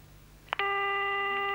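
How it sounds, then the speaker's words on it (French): A telephone line gives a click and then a steady electronic ring tone, sustained and clear with no talk over it. "Première sonnerie."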